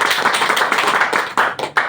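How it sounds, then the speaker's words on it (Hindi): Audience clapping for a company founder and CEO at an office program, a dense run of hand claps with a few louder bursts near the end, lasting about two seconds. "इस कंपनी के फाउंडर सीईओ डॉक्टर लीम सियोजिन, उनके लिए जोरदार ताली होना चाहिए"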